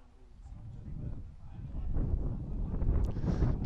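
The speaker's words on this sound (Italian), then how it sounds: "mentre il vento continua a dar fastidio ai 22 giocatori in campo" Gusty wind buffets the microphone at an outdoor football match between US Conversano and Don Bosco Manduria, a continuous low rumble that grows stronger partway through, with faint crowd or field sounds beneath it.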